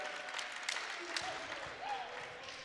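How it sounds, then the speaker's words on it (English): Players on the Mohawk men's volleyball bench cheering and clapping after a referee's call, a lively burst of applause and shouts in a gym, with an announcer talking over it. "All the players in the Mohawk bench cheering for the referees after they made a call."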